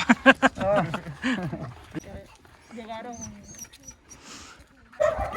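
Dogs at an animal shelter bark and whimper in short bursts amid people talking, with a sharper burst of barking near the end.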